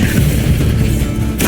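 In the video game Hogwarts Legacy, an Incendio fire spell goes off as a loud, dense whoosh of flame with a heavy low rumble, sustained briefly and then ending in a bright burst.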